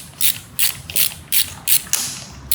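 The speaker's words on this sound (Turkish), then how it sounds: "Tesisatımızın son cıvatası sökülüyor." A ratchet wrench loosens a bolt on a BMW 535d M57 twin-turbo diesel engine, giving six crisp, evenly spaced clicking bursts at close range with no talking.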